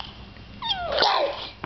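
A short, rising-then-falling meow, like a cat or a child mimicking one, heard alone against quiet background.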